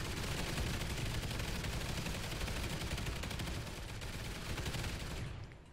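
Sentry guns in the video game Call of Duty Extinction pour out loud, sustained automatic fire in a dense, unbroken stream that cuts off abruptly at the end.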